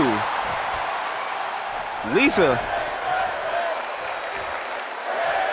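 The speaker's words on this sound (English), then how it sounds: "You hear the crowd saying, "This is wrestling." They are loving every bit of this." A wrestling show crowd keeps up a dense, continuous roar of cheering and applause, with a brief swell in the middle, while a voice talks over the noise.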